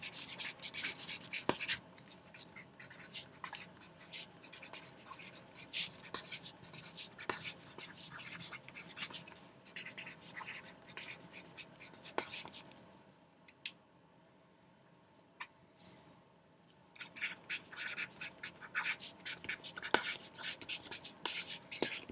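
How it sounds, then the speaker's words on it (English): Writing words by hand for an earth science lesson gives close, scratchy strokes with quick taps in steady bursts, a brief quiet pause midway, then more writing, with faint whispered talk underneath. "as I write down a few words to help you"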